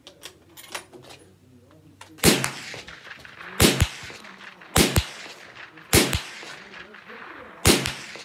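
Five sharp, loud rifle shots from a CVA Cascade 300 Win Mag, spaced roughly one to two seconds apart outdoors, each a crisp crack with a short decay, with faint talking and handling noise between shots.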